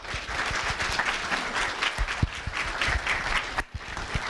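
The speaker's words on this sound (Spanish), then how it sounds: "Un aplauso para darle la bienvenida al doctor Garza" An audience at a foundation event on medicinal cannabis applauds to welcome a doctor to the stage, a full room of steady clapping with a few sharper individual claps standing out near the end.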